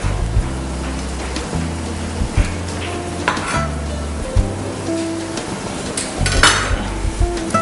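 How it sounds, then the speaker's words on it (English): Onions fried and stirred in a pan for Ghanaian asanka dishes: steady close sizzle with repeated scraping strokes of a utensil against the pan and occasional clinks, no talking. "And then I stir."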